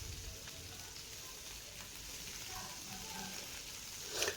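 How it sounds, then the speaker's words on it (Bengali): Potatoes frying in the oil left from frying fish, a steady close sizzle and crackle throughout, with a brief louder burst of spattering at the very end. "সেই তেলের মধ্যেই, মাছ ভাজার তেলের মধ্যেই আমি আলুগুলো ভেজে নিচ্ছি।"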